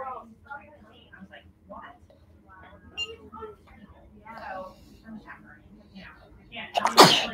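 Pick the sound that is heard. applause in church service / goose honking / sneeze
sneeze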